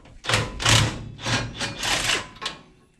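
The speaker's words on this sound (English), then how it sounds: "Got our impact with a 7/8 on there and a wobbly socket." An impact wrench fitted with a 7/8 socket on a wobble extension hammers at the suspension of a 1967 Camaro, giving about five loud, close, rattling bursts of varying length in quick succession.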